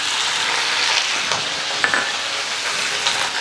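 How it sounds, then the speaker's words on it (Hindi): Beef liver (kaleji) fries in hot oil in a wok for dhaba-style cooking, giving a loud, steady, dense sizzle with small crackles and pops throughout. "ऑयल गर्म हो जाने के बाद हम इसमें कलेजी डाल देंगे जो हमने अच्छी तरह से धोकर तैयार रखी है"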